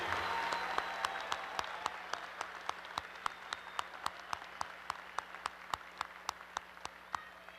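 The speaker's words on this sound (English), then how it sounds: "Let's have a round of applause for our May 2017 master's graduates" Applause from a university commencement audience fills the space, with sharp regular claps standing out over a dense wash of clapping.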